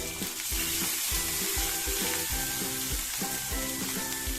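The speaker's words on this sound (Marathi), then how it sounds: "इथे मी सात ते आठ लसूण पाकळ्या अर्धा इंच आलं आणि दोन तीन हिरव्या मिरच्या अशा ठेचून घेतल्यात ते घालून घेते" Crushed garlic, ginger and green chillies fry in hot oil with a dense, even sizzle, broken by rhythmic scraping strokes of a stirring spoon about twice a second.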